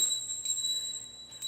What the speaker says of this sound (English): I'm going to ring the bell for myself.